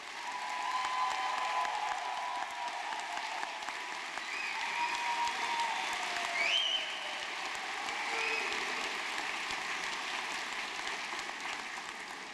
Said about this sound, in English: Could I have a round of applause for the Bachelors of Mathematics?